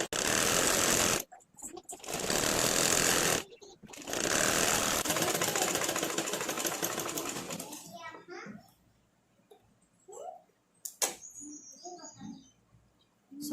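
Sewing machine hemming a quarter-inch fold on a blouse sleeve, loud rapid stitching in several bursts with brief stops, then quieter fabric handling and small clicks as a voice talks nearby.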